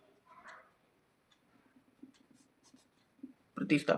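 A pen writes integration maths on paper with faint, close scratching strokes. A voice talks throughout, and a louder rustle comes at the end.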